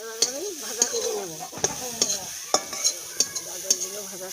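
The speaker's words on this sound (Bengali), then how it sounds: "গাজরগুলো ভাজা করে" Grated carrots fry in ghee for carrot halwa, with a soft, steady sizzle under repeated sharp clinks of a spoon stirring against the pan, close by.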